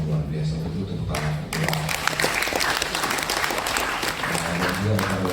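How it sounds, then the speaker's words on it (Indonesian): An audience at the inauguration of a lecture theater at Universitas Hasanuddin breaks into loud, full applause that carries on steadily, with speech mixed in at points. "Itu tepuk tangan."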